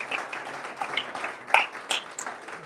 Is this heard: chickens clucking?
no